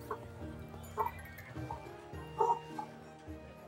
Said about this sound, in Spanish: Mi perra está ladrando.